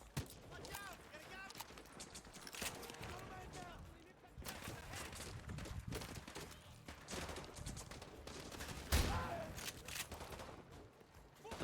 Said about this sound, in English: Goated shotgun right here